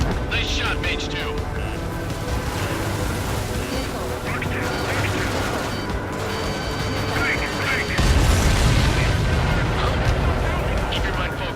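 Explosions in aerial combat in the video game Ace Combat 7, with dense rumbling blasts and booms layered over constant jet roar, and a heavier burst near the end, while radio voices talk over the action.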